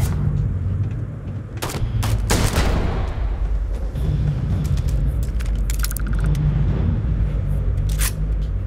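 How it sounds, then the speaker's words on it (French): Gunfire in the space video game Starfield: loud, close bursts of shots and sharp cracks stand out early over a dense, rumbling wash of battle noise. Scattered further shots follow throughout. "Mec, t'es mort et tu m'as tiré dessus"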